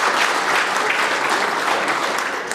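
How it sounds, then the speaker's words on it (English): Members in a provincial legislature chamber applaud together, a full, steady patter of many hands clapping at moderate loudness throughout the short stretch, with no voices on top. "and a round of applause now, please"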